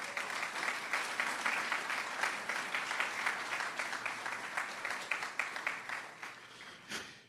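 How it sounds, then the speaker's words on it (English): An audience at a transit groundbreaking ceremony applauds the mayor, dense even clapping held at a steady level before fading out at the end with a final knock. "give the mayor a meaningful round of applause for his leadership"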